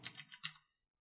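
A few quick, faint keystrokes on a computer keyboard, a short close run of soft clicks that dies away in under a second.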